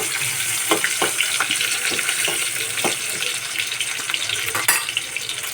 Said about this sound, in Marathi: चांगली लसूण कांदा चांगलं भाजायला द्यायचं.